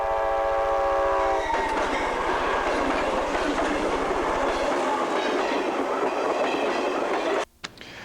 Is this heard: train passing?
yes